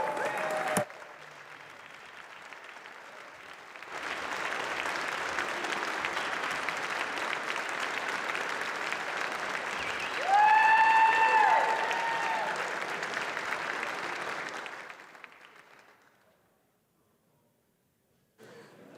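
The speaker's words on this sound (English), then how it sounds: "so we should all give him a big round of applause." Legislators applaud on the Minnesota-style House floor during a floor session, a broad steady wash of clapping lasting about ten seconds before fading out, with a brief tonal sound partway through.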